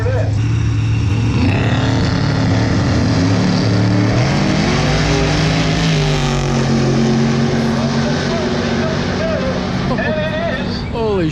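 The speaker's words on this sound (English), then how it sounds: "we got the big 440 Chrysler, I believe it's 440 Chrysler. There's got to be a big one. It's a 68 Dodge Coronet." A 1968 Dodge Coronet with a big 440 Chrysler engine makes a loud, continuous engine roar at a drag race, rising in pitch as it accelerates, with crowd and voices talking over it throughout.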